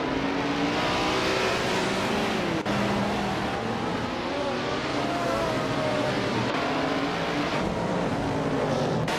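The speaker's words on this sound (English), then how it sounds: "the race at Croft is kicking off and Group 6's superstar, Bot Shododoroki 39, is starting on pole in a vintage 1972 Lola T280" Vintage 1972 Lola T280 Group 6 race cars roar off the start at Croft in a racing game, a loud unbroken engine drone with overlapping whining revs and gear changes throughout.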